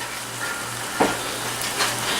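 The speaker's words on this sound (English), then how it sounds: "So look at those flavors, it's sizzling." Ground beef sizzling in a frying pan for tacos, a steady crackling hiss with an occasional scrape or stir, close by.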